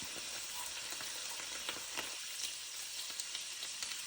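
Urad dal, coriander seeds and cumin dry-roasting in a pan give a steady, soft, even sizzle with faint scattered crackles and light stirring scrapes throughout, with no voices.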